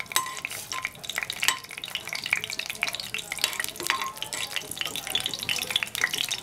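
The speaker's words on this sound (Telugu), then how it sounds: "ముందు లవంగాలు, యాలక్కాయలు ఆయిల్ హీట్ చేసుకుని లవంగాలు, యాలక్కాయలు వేసుకోవాలి" Cloves and cardamom crackling in hot oil for an Andhra chicken curry, a close, busy sizzle with scattered pops and light stirring scrapes throughout.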